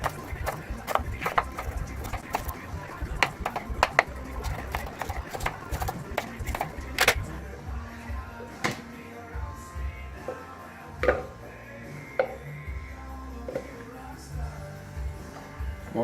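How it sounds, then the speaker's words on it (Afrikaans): Ginger root being chopped with a knife on a board while preparing a ginger beer recipe, giving a quick run of sharp, close knocks that slow into scattered single strikes, with a voice talking faintly underneath. "So die eerste ding wat ons gaan doen is om die gemmer op te sny"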